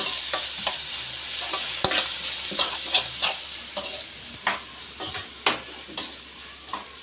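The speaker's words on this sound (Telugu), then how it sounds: "కొంచెం ఉప్పు వేసి తీసి తిప్పితే ఉల్లిపాయలు త్వరగా మగ్గిపోతాయి" Onions being stirred with salt in a pan for a ridge gourd and dried prawn curry, a steady close sizzle broken by about a dozen sharp scraping strokes of a spoon against the pan, no talking.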